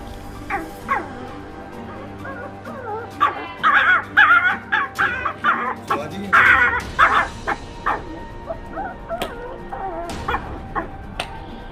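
A man imitates a small puppy's barking, a run of short high yips and whimpers in bursts, loud and close, with quieter pauses between and a little murmur in the background.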